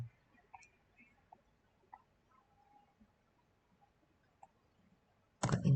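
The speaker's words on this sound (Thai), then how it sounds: "คลิกแล้วปล่อยคลิกแล้วปล่อย" A computer mouse in PE-Design embroidery software gives a few faint, scattered clicks in near silence, then a sudden loud burst of handling noise right at the end.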